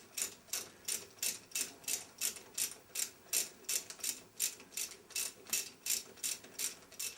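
A ratchet socket wrench loosens the nut holding the fan and flywheel on an outboard motor, giving steady bursts of close, crisp clicking in a regular rhythm with no talk.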